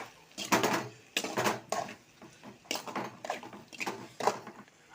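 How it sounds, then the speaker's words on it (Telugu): Okra fry being stirred with salt in a pan, giving repeated bursts of scraping and clattering from a utensil against the cookware, close and moderately loud with short pauses between strokes. "ఉప్పు వేసుకొని తగినంత మంచి కలుపుకోవాలి"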